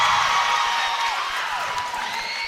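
A home crowd of Tipton Blue Devils fans cheers and applauds after a made free throw at a girls' high school basketball game in the Hickory Classic, a broad, steady roar filling the gym.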